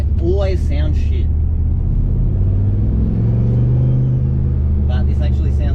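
Turbocharged LS V8 in a CV8 Monaro rumbling with a deep, steady drone throughout, swelling slightly mid-clip, while voices talk over the start and end.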